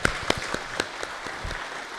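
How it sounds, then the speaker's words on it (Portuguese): Seminar audience applauding briefly after a talk, a short burst of scattered hand claps at moderate distance that quickly thins out. "Meus aplausos."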